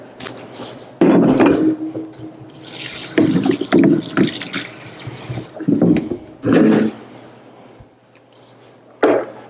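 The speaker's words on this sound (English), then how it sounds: "Once we have our lettuce in there, we're going to get a little cool water in there." Cool water splashes and pours in intermittent bursts into a salad spinner holding lettuce, with drips and sink sounds between the louder gushes.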